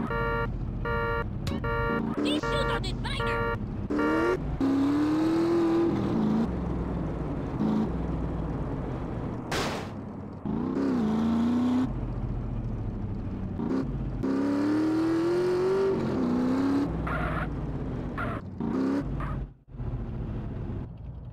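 A Shimura FCR-900 motorcycle in GTA San Andreas, with engine revs rising and falling in several pitch sweeps over about twenty seconds, loud and continuous with no talking.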